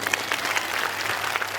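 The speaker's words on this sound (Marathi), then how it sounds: "यांचं गाणं आवडलं असेल तर टाळ्या वाजवा बरं" A crowd at a village home-entertainment show claps after a song, a dense burst of close applause that runs steadily through the moment without a break.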